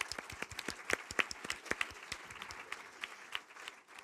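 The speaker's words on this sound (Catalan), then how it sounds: "Un aplaudiment, no?" Audience applause at a museum talk on guided tours for people with intellectual disabilities: a steady patter of many hands clapping, fairly close and moderately loud, sustained for several seconds with no talking over it.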